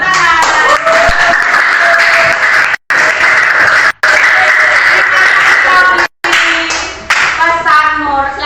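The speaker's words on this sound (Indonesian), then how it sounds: "Tepuk tangan." A classroom of students claps together in a steady burst of applause with a few gaps, with some voices and a hint of laughter mixed in nearby.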